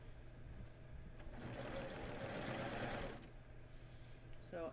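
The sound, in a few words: sewing machine stitching along a seam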